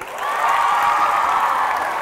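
A studio audience at a Got Talent semifinal breaks into clapping, a thick, sustained burst that sounds loud and close, with no talk over it.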